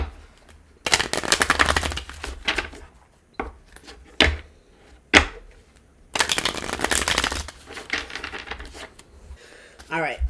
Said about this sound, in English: a couple more shuffles and we'll hop in